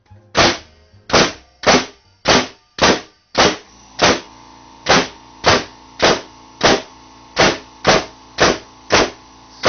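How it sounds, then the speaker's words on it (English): A pneumatic framing nail gun fires nails, driven by a Rolair air compressor: about fifteen sharp, loud, close bangs in a fairly even rhythm, each snapping out with a short tail, alone with no talk. "We're going to try it out with our framing gun and see how many shots and how, you know, well it drives."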